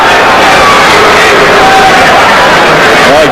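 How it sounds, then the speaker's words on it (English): A restless crowd at a Bernard Hopkins versus Syd Vanderpool boxing match in 2000, a loud, dense roar of voices and babble with a few shouts that rise above it. "the crowd is growing restless"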